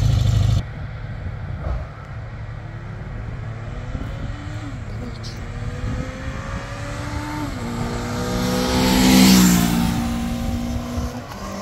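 A 1979 Honda CB 650 motorcycle being ridden, its engine revving up through gears with rising and falling pitch sweeps, growing louder toward a strong acceleration near the end, heard close and steady over wind noise.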